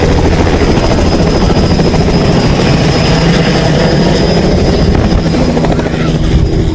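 A helicopter departs carrying mothers and children evacuated from a flood, its rotor and engine making a loud, steady, close roar that continues without a break.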